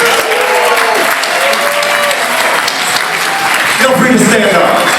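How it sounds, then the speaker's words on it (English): A gala audience breaks into thunderous applause as the honoree is introduced, continuous loud clapping from a large crowd with voices carrying over it. "I'm looking here for a thunderous applause as I introduce the reason why we're all here tonight"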